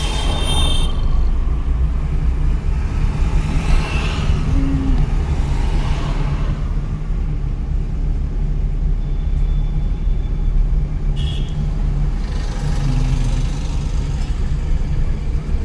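A car engine runs loudly throughout with a steady low rumble. The revs swell and ease in places, and the sound stays close.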